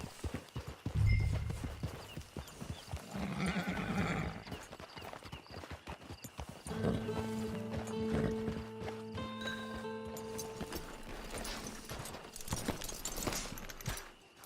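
Hooves clip-clop in a steady walking rhythm, fairly close, with a horse snorting and soft ambient game sounds around them, in Red Dead Online.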